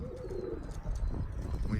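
Birmingham Roller pigeons coo softly in a low, rolling murmur, close by and fairly quiet, with no talking.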